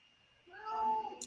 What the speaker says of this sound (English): Oh, cat. That's a cat.